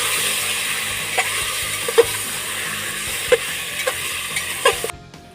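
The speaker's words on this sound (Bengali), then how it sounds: "কুকারে সুন্দরভাবে ভেজে নিয়েছি" Mutton masala frying in oil inside a pressure cooker, giving a steady close sizzle with a few sharp stirring clicks scattered through, ending abruptly near the finish.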